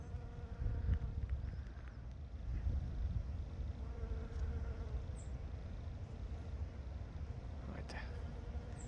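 Bees and a fly buzzing around a hive in late November, a soft continuous insect hum with faint wind and background noise, and a voice talking quietly beneath it.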